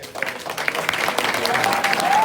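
An audience applauds for a congressman, a dense wash of clapping that swells toward the end, with a voice faintly over it.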